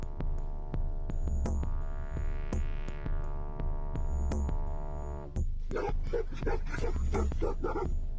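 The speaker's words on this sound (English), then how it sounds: "When the small bear heard the Mastiffs barking fiercely" Tibetan Mastiff guard dogs bark fiercely in repeated loud bursts over a steady droning hum, with a denser cluster of barks toward the end.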